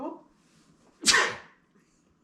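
A single sharp sneeze bursts out close by, briefly, outdoors on an Appalachian Trail thru-hike while gear is being shown, with faint talk just before it.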